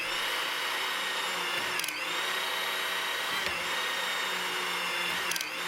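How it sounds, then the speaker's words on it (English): A hydraulic torque wrench, driven by its pump, turns an industrial nut with a loud, steady high-pitched mechanical whine, broken by a few brief shifts in pitch as the stroke advances. "Using the pump control, advance the wrench so that it rotates the nut."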